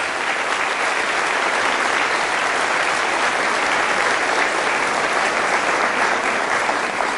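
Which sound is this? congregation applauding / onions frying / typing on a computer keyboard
congregation applauding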